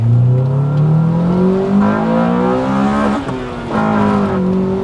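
Nearly stock Honda Civic Type R EK9 engine pulls hard through the revs into VTEC, a loud rising howl that briefly dips at a gear change, then climbs again.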